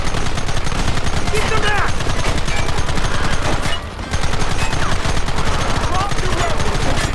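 Heavy gunfire from many weapons in the western video game Red Dead Redemption: a loud, near-continuous barrage of rapid shots with a brief lull midway, as someone shouts a command over it.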